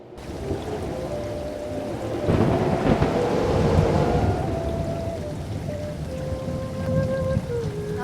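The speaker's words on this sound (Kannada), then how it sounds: "ಇವತ್ತು ಮಳೆ ಜೋರಾಗೇ ಇದೆ" Heavy rain pours steadily with thunder rumbling through it, on a rainy day in a village where a vegetable seller heads out with his cart; continuous and loud, with no talk.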